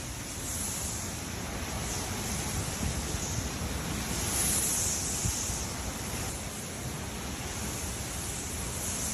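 Waves surge on Lake Michigan beside the St. Joseph Lighthouse in freezing wind, a steady, loud, broadband roar of surf mixed with gusting wind noise on the microphone throughout.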